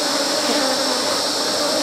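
A swarm of honeybees at a hive makes a dense, continuous buzz, loud and close throughout with no pauses.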